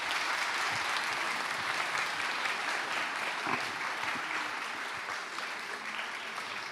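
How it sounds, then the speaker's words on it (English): A live audience gives a sustained round of applause at a stage show, dense steady clapping that stays loud and even throughout before easing slightly at the end. "Big round of applause"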